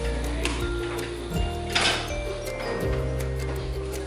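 A DTG garment printer's head slides to its parking position with a steady mechanical whir, low motor hum and rhythmic ticking clicks, close and continuous with no talk.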